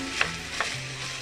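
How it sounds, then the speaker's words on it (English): Italian sausage meat frying in a pan for stuffed manicotti and being broken up with a utensil. A steady close sizzle is broken by two brief scraping stirs, with no talking. "Break the meat up, the Italian sausage up"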